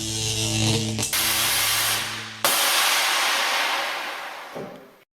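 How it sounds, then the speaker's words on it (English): A rattle can sprays paint onto a Mazda B2200 truck, two long close hissing bursts following a humming tonal stretch, the last burst fading out before silence. "Welcome back to the rattle can paint job on this little turkey"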